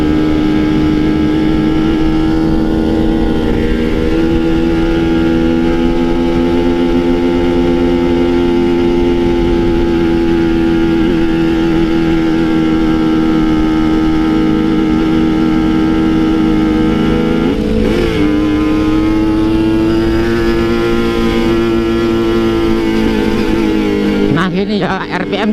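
A two-stroke Kawasaki Ninja motorcycle engine drones loudly and continuously while climbing uphill, its pitch sagging and rising as it downshifts, recorded close on the bike with wind noise.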